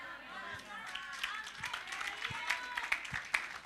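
Congregation at a church service clapping hands in a steady, scattered rhythm, with sharper individual claps standing out, while a preacher's voice carries over the top.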